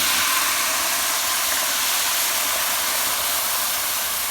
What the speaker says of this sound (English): you're just going to let that simmer down a little bit